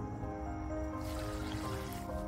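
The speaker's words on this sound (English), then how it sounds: "we're just gonna put a little water in there." A little water runs into a chicken feed mix, a soft trickle and drip under a low steady hum, close and gentle.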